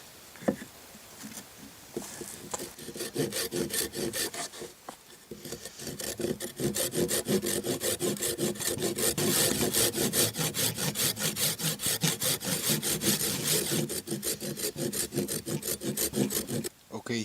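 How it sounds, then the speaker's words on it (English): Hand saw cutting wood along marked lines: a long run of rhythmic, raspy back-and-forth strokes, close and steady after a few hesitant starts, with a short pause midway before sawing resumes. "we're gonna cut over here where the lines are"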